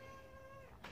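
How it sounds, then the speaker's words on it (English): A whiny cat gives a single drawn-out meow indoors, close and fairly clear, with a faint rising bit of noise at the very end. "Oh, whiny cat."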